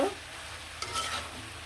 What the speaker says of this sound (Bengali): দিয়ে কিন্তু এটা ভালো করে আবার মিশিয়ে নিব